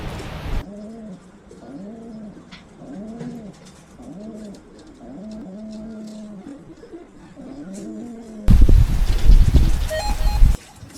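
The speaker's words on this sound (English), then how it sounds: "There's 8 pigeons home." Racing pigeons coo repeatedly in soft, rhythmic bursts at a home loft on a gale-blown afternoon, with a sudden loud rush of wind noise drowning them near the end.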